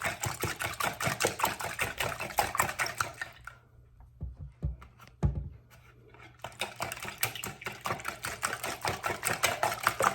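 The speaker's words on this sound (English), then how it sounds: "Let's give these a whisk." Eggs being whisked in a bowl for egg cups: a fast, steady train of light clicking taps near the mic, with a brief pause partway through before the rapid rhythm resumes.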